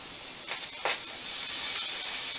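Chopped onions soften in a hot pan with a steady, close hiss of sizzling, a few brief louder spits rising above the constant frying noise.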